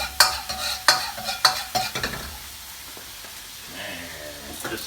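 Jarred garlic hits hot oil in a pan with several sharp sizzling bursts over the first two seconds, then settles into a quieter steady frying hiss.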